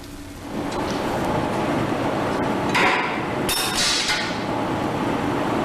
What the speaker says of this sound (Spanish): el martillo golpea la probeta por el lado de la entalla